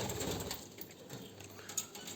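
Small aviary birds, including painted finches, in a cage, with dense continuous chirping and cooing calls close by, steady and busy throughout with no talking.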